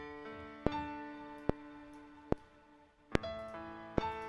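Soft piano notes captured by a microphone placed beneath the instrument, with about five muted percussive strikes spaced roughly a second apart, each leaving a sustained, mellow ring that decays between hits; quiet and close, no talking.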